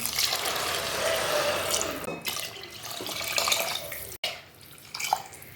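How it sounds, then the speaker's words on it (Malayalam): Water pouring in a steady stream into a pressure cooker for ghee rice, the gush shifting in pitch as it fills, then a brief pause and a few splashes. "നമുക്ക് ഇതിലേക്ക് പാത്രത്തിൽ വെള്ളം ചേർക്കാം"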